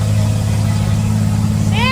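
A nearby Ford Cargo dump truck engine drones loud and steady, a thick low rumble working in a city center, before a voice cuts in briefly over it at the very end.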